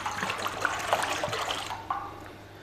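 Water poured from a container into a pot set on a stove burner while making Turkish künefe, a steady close splashing trickle lasting a couple of seconds before tapering off.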